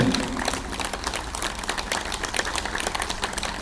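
An audience claps continuously, a dense patter of many hands at moderate volume with no voices standing out.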